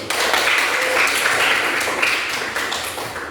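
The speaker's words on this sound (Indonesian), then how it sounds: "Kita beri tepuk tangan buat teman dulu." Students in a classroom clap for a classmate, a loud, dense burst of clapping that stays even for a few seconds and eases slightly toward the end.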